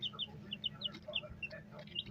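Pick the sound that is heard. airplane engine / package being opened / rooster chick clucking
rooster chick clucking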